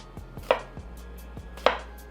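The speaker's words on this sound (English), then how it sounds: "And then we're just gonna rough chop, just slice it down the middle." A knife rough-chops a vegetable on a cutting board, the blade slicing down the middle in quick, sharp strokes; about six close, crisp thuds land at uneven intervals, two of them louder than the rest, with no voices.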